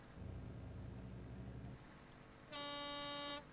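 A truck horn in Euro Truck Simulator 2 sounds once as a steady, loud blast lasting almost a second, following a stretch of low engine rumble.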